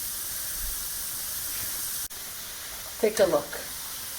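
Struffoli dough balls frying in hot oil and stirred with a skimmer give a steady, even sizzle throughout, with a brief burst of stirring and bubbling near the end and a short spoken remark.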